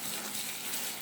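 Very hot water pouring steadily into a bucket for a homemade laundry soap mix, a continuous broadband gush at close range with no talk.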